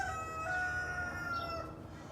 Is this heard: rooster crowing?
yes